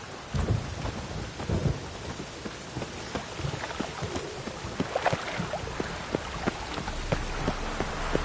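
Steady heavy rain in The Witcher 3: Wild Hunt patters down continuously, with low thunder rumbling in the background and scattered louder drops; no voices.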